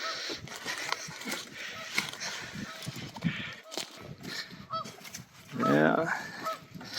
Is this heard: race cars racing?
no